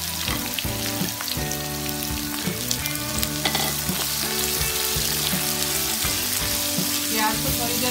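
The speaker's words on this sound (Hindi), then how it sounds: "प्याज को थोड़ी देर तक इस तरह से चलाते हुए चला करके भूनना है" Four medium onions, chopped small, fry steadily in a pan while being stirred, with a close, continuous sizzle and repeated scraping strokes throughout and no talking.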